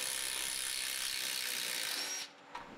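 A wrench ratchets steadily on the sway bar end links of a Toyota Supra during suspension work, a close, continuous clicking buzz that runs unbroken for about two seconds before stopping abruptly, with no talk.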